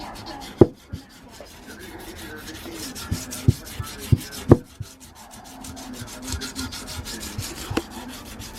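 A new truck valve cover is wet sanded by hand with a soft, steady rubbing scrape close by, broken by several sharp knocks and taps.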